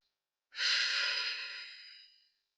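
One long, deep exhale during a stretching routine in child's pose, soft and close, a breathy rush lasting nearly two seconds and tapering off into silence.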